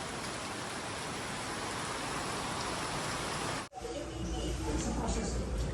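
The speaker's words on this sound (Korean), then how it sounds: "밤마다 비가 오네요" Steady heavy rain pours at night, a dense, even hiss that runs loud and unbroken before cutting abruptly to a quieter, closer patter with low rumble.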